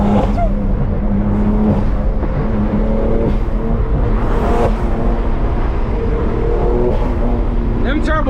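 A 2016 BMW M3 with a turbocharged engine accelerates hard during a street race against a Nissan 370Z, a loud, steady engine drone with rising tones filling the whole stretch from close inside the car, voices faintly mixed in.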